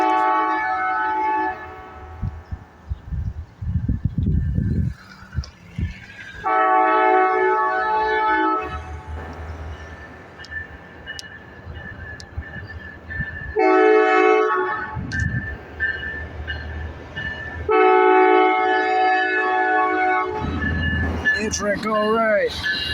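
Amtrak passenger train passing close by, sounding its horn in several long, loud blasts separated by brief gaps, with rumbling wheels and track noise underneath and excited voices talking in between.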